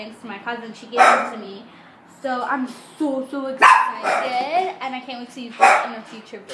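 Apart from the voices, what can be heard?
dog barking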